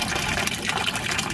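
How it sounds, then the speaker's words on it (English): Water runs steadily through a siphon feeding a hydroponic system, carrying rainwater or distilled water. The flow is a continuous, close, moderately loud gushing rush with no pauses and no voices. "here's the siphon at work"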